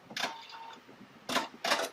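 A Pfaff Creative Icon 2 sewing machine running a basting stitch, giving three short, separate mechanical bursts spaced apart, fairly close and clear.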